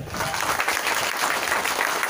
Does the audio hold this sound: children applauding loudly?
yes